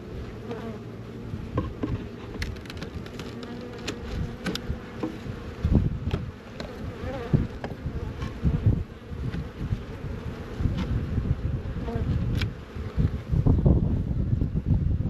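Honey bees buzz around an open beehive in a cantaloupe field, a steady close drone with individual bees passing near, light wind and scattered handling knocks, no talking.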